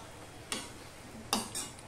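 A spatula scrapes and clinks through a vegetarian mixed-vegetable curry in a pan over a low gas flame, with two or three short, quiet strokes separated by near silence.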